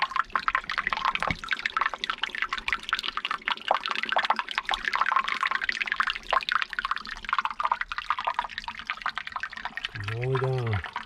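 Water pours and splashes over rocks at Dutchman Falls in a continuous rushing, gurgling wash, heard from nearby. A short voice sounds near the end.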